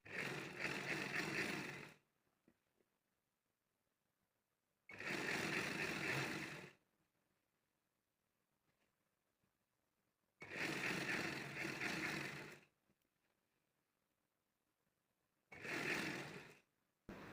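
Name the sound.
sewing machine stitching salwar pleats and belt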